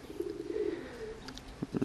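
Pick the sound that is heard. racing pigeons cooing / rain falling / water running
racing pigeons cooing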